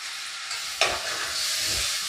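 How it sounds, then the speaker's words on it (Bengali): Drained chicken pieces dropped into butter with carrot and papaya for a stew, a sudden sizzle and splutter followed by soft frying hiss and a couple of stirring scrapes, close up with no talking. "এবার আমি এর মধ্যে দিয়ে দিচ্ছি জল ঝরিয়ে নেওয়া চিকেন"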